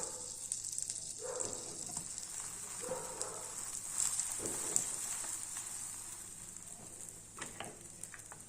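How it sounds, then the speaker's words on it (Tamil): A bun toasts in melted butter in a pan with a quiet, steady sizzle and a few soft crackles and light clinks from moving it around. "பட்டர் லேஸாக மெல்ட் ஆனோடனே நம்ம இந்த ப்ரெட்டை வச்சிடலாம்"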